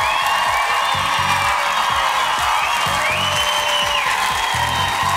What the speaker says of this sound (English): Big round of applause for Ronnie the Young